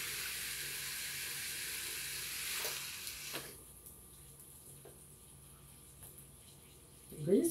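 Bacon-wrapped chicken cooking on a closed waffle maker gives a steady, fairly loud sizzling hiss that fades to a quieter simmer, with a short voice near the end.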